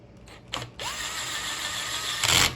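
A metal pommel nut turns onto the freshly cut threads of a sword tang, giving a steady, close grinding whir with brief clicks at the start and a louder scrape near the end, with no talking.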